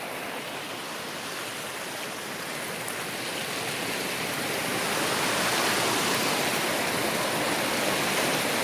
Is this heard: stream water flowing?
yes